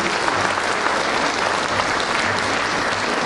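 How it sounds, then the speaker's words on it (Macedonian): Steady applause from a concert audience at a New Year folk performance, dense continuous clapping at close range, no one speaking over it. "Еден аплауз"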